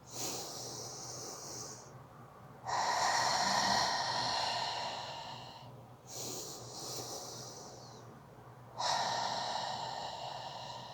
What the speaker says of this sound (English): in through the nose and out through the mouth